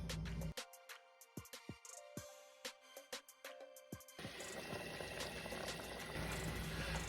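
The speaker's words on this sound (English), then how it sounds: "We're gonna cover that and let that simmer" Beef stew simmers in a covered pot, with bubbling pops and clicks that give way to a steady, fuller boiling hiss.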